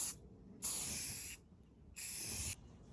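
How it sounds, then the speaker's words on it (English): Aerosol can spraying protective almond enamel paint onto a rust-cleaned camper part: two steady hissing bursts, each under a second, close and fairly quiet. "Just gonna put on some protective enamel"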